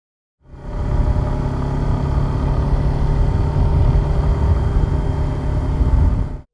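A Suzuki Gixxer 150SF motorcycle fitted with a Yoshimura full exhaust runs steadily with a loud, close, unbroken engine drone and deep rumble that starts abruptly and cuts off after about six seconds.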